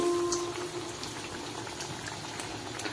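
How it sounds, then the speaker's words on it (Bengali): Eggplant fritters (beguni) fry in hot oil, a continuous soft bubbling sizzle that holds steady and fairly quiet for the whole stretch, with no talking. "তাই এখন আমি বেগুনি ভাজছি"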